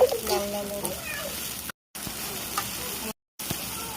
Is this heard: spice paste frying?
yes